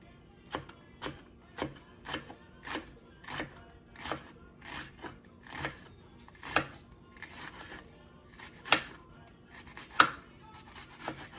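A knife chopping an onion on a cutting board: a steady run of close, crisp strikes at an even pace, about two per second, with no talking.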